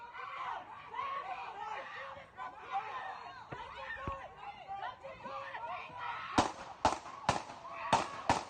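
Several sharp gunshots crack in rapid succession from a played recording of a shooting, following a stretch of excited shouting and chatter from a crowd.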